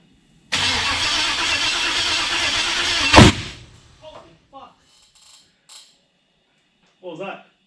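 A turbocharged Holden 304 engine cranks for about three seconds with a loud, steady churning, then fires with a sharp bang and dies away, followed by brief scattered voices in the quiet.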